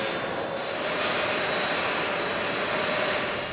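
A large military transport aircraft's engines roar in a loud, steady, broadband rush during refueling, with a faint high whine, continuous and unbroken throughout, no voices.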